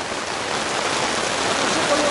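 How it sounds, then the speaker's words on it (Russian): Rain falls steadily on an outdoor fishing spot in Germany, a continuous hiss of dense drops that is fairly loud and close, with no other sounds standing out. "Только дождь пройдет и все."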